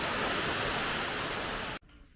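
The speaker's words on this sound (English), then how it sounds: "We're at the waterfall." A mountain waterfall in the Drakensberg at Royal Natal National Park roars as a loud, dense rush of water, then cuts off abruptly near the end.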